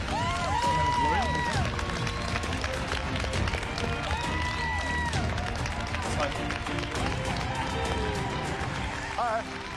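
Studio crowd of contestants' families and former culinary rivals on MasterChef cheering and clapping, a steady loud wash of applause and whoops under a voice talking throughout.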